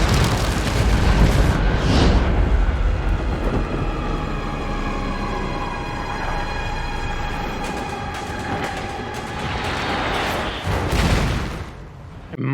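A bomb explosion in a Superman & Lois TV episode: a loud, rumbling blast rolls on as a long sustained roar with tonal whine and debris noise, swelling again near the end.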